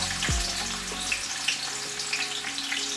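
Oil sizzles and crackles steadily close up as onions fry, with a brief low thump near the start and no talking.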